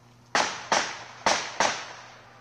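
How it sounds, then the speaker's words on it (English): Four sharp gunshots on a northeast Portland street, cracking out in two quick pairs with a short gap between, each with a brief decaying echo, with no talk. "Then you can hear two shots, tires squealing, and then more gunfire."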